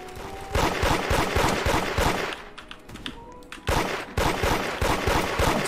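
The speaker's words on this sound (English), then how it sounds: "they're trying to wall shoot you" Rapid bursts of gunfire in the Roblox game Da Hood, played in a modded ranked match, crackle densely and loudly for most of the stretch, easing briefly in the middle before heavy firing resumes.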